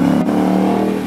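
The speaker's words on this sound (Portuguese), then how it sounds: "Ford Mustang." Ford Mustang at a street car meet in a city plaza, engine held at a steady, loud, throaty idle-to-rev drone, close by, with no talking over it.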